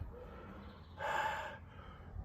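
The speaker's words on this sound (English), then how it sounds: "You blowing your nose?" A person blows their nose once in a short, breathy honk lasting about half a second, close by in a quiet workshop during repair work on an MF 1250 tractor's Perkins engine.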